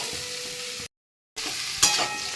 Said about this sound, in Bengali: এবারে একটু ভালো করে নাড়াচাড়া করে নেব।